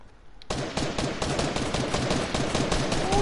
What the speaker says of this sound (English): I'm shooting at it.